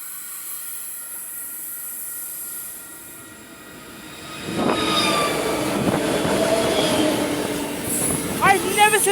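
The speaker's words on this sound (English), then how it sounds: "I've never seen that locomotive before" A locomotive-hauled train passes at Wondabyne, its rumble swelling from quiet to loud partway through, with steel wheels squealing and screeching near the end, and voices faintly present.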